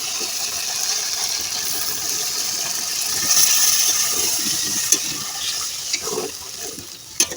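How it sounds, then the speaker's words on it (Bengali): Water gushes into a pot of simmering country chicken curry with potatoes and drumsticks being made as a thin gravy, a steady pour that swells midway and ends with a few clinks. "এখন আমি দিয়ে দেবো গোসের ভিতরে ঝোলের পানি"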